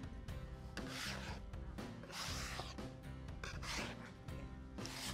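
Flour and eggs are worked by hand on a wooden board into pasta dough, giving steady close rubbing, scraping and rasping strokes in repeated bursts, with no talking.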